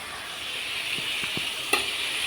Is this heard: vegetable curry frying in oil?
yes